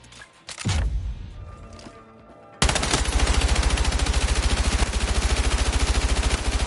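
An LMG in Battlefield 6 fires a long sustained automatic burst, loud and close with a steady rapid rhythm. It comes after a single earlier shot with a lingering echo.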